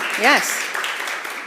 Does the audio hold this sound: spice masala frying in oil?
no